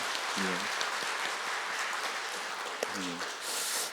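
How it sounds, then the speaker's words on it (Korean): A church congregation at a Sunday service gives a round of thankful applause, faint, steady clapping spread across the room, with brief voiced sounds twice. "감사의 박수 한번 했으면 좋겠습니다"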